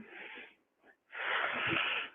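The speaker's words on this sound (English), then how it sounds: "breathing in on the way down" Heavy, breathy exhales and inhales during a home workout exercise, two close hissing breaths separated by a short pause, with no talking.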